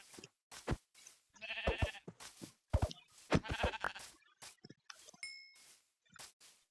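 In a video game, a sheep gives several short bleats at uneven intervals, with quiet gaps between them and a faint clink near the end.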